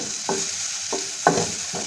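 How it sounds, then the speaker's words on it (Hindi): Onions frying in oil in a pan for rajma curry, with a few separate stirring scrapes over a steady close sizzle. "हुण आपां इहदे विच प्याज ऐड करदे हां।"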